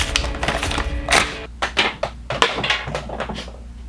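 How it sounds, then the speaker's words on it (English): Nerf Pocket Strike blaster packaging is ripped open up close, a loud stretch of crackling, tearing bursts of plastic and cardboard with no voices. "Rip this guy open."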